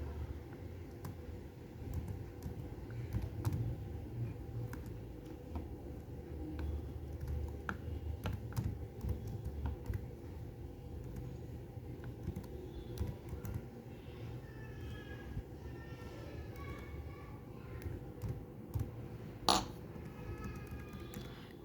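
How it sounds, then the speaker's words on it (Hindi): Keys clatter on a computer keyboard in a long run of quiet, irregular typing, close and soft, with a faint background hum. "स्टूडेंट रिकॉर्ड, तो हम यहाँ पे टाइप कर देंगे।"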